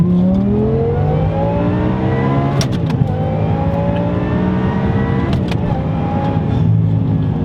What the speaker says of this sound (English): this is a lovely sounding V10